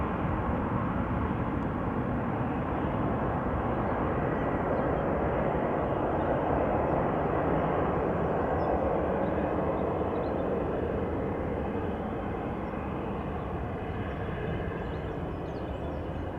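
A German Airways Embraer 190 airliner at Amsterdam Schiphol Airport produces a continuous broad engine roar, loud and steady throughout with no voices.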